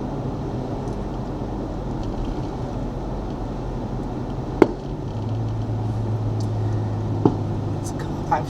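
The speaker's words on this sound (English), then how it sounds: "It's a car backfiring. I thought it was being shot at." A car backfires on a road in Costa Rica, giving two sharp, isolated bangs several seconds apart over the steady rumble of a moving vehicle's interior.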